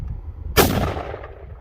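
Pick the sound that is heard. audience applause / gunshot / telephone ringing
gunshot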